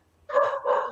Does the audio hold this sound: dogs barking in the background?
yes